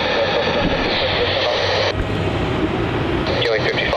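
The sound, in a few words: Qantas airliner taking off from runway 27, Melbourne Airport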